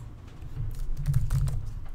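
Rapid typing on a computer keyboard, a steady run of close, crisp key clicks with nothing else heard.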